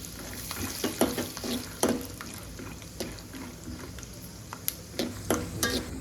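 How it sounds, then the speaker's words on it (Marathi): Peanuts fry in hot oil in a pan, a steady low sizzle broken by scattered sharp clicks and scrapes, close and fairly quiet, with no talking. "आता तेल गरम झालेलं आहे, त्याच्यात आपण शेंगदाणे तळून घेऊ"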